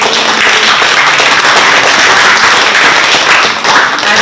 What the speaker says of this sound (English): I would like to ask that we give another big round of applause to the World Bank.